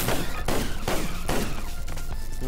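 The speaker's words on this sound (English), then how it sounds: "I'm just shooting randomly" Gunfire in the video game Awesomenauts, a rapid run of sharp, loud shots in bursts with ringing decays, close and dominant with no talk over it.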